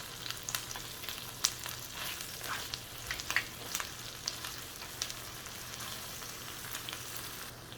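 Chorizo with onion and garlic frying in a pan, a steady close sizzle with scattered pops and crackles throughout, no voices.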